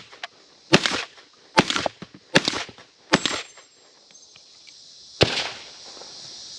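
Akdal Arms Monastor 101 bullpup shotgun firing five loud, sharp shots outdoors on a range, the first four in a quick, even rhythm and the fifth after a longer pause.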